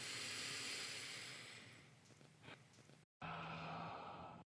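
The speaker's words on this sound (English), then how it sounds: "So breathing in." A slow, deep breath in during a guided meditation exercise, soft and airy. It is very quiet and close, with a brief silent break before another hushed breath.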